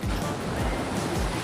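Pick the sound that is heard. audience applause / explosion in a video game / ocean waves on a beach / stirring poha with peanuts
ocean waves on a beach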